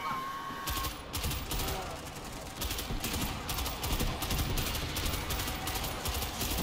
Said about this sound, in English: Machine gun ready.